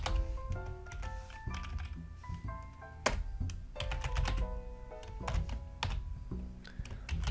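Fingers type on a computer keyboard, a dense, irregular patter of close clicks and taps with brief pauses and occasional heavier key strikes, continuing steadily with no voice over it.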